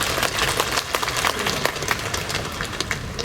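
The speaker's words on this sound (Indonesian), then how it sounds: "Kita tepuk tangan buat kita semua dulu." Civil servants at a morning assembly with the governor of NTT applauding together, a lively, dense burst of clapping that stays loud and close for the whole stretch.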